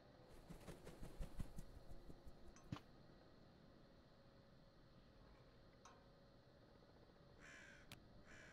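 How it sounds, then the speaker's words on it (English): A few quiet, sharp crow-like caws from a bird in the video game Tick Tock: A Tale for Two, scattered over a faint hum with soft ticking clicks. "I keep hearing the bird. He's flying all over this place."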